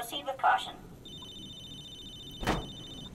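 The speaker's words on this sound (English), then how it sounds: "There's a phone ring." A telephone rings in Halo 3: ODST, a steady electronic trill running alone for about two seconds, with a short burst of gameplay noise before it and a brief thump near the end.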